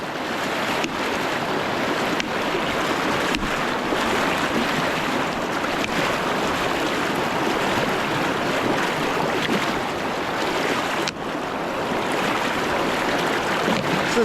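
Heavy, fast river water rushing steadily around a person wading in winter steelhead water, loud and continuous with wind buffeting the microphone, no talking.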